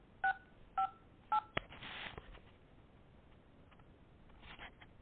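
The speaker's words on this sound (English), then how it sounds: "So I'm going to call my voicemail" Three short telephone keypad tones beep in an even rhythm while a voicemail password is dialed, followed by a brief burst of line noise and a faint tone near the end.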